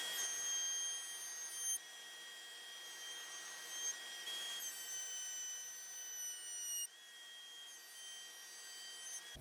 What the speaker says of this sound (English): there is the 1/4 inch Cove Bit to full height